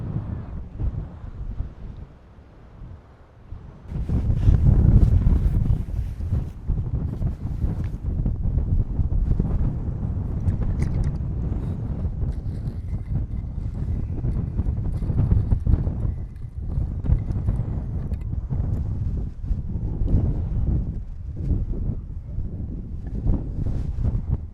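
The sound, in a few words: wind blowing on a hilltop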